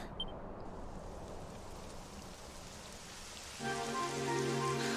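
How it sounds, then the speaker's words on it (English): Steady rain hisses in a Dragon Quest XI game scene, a dense even patter throughout, joined near the end by tonal game music rising over the rainfall. "It would have to go and start raining, wouldn't it?"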